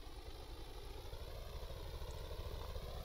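Boat engine running in Stormworks, a steady close mechanical drone with a low rumbling pulse, continuous and unchanging, no voices.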